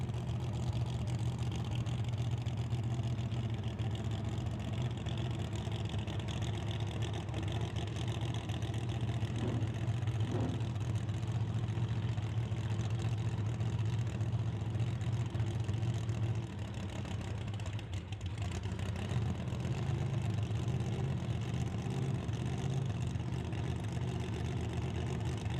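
A drag race car with a 400 cubic inch Chevrolet engine rumbles at a steady, low idle, a continuous droning hum heard at moderate distance with little change in pitch.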